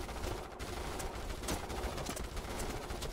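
Sustained volley of rifle fire from soldiers in the Starship Troopers: Terran Command strategy game, dense overlapping shots crackling continuously at a loud, steady level with no pauses.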